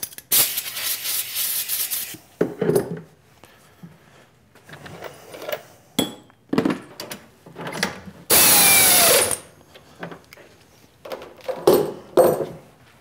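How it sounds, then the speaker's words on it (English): A 1/4 inch 4-flute carbide end mill bores holes in low-profile edge jaws, giving bursts of machining noise that start and stop irregularly, with one louder sustained cutting stretch and quieter gaps between. "now we're going to switch over to a 1/4 inch 4-flute carbide end mill and bore those holes out to size"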